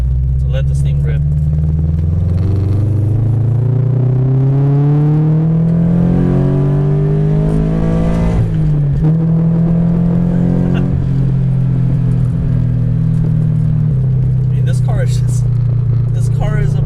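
A Toyota 86 / Subaru BRZ sports car engine revs hard while driving, pitch climbing steadily through the gears with a brief dip at a shift, loud and close, with faint talk.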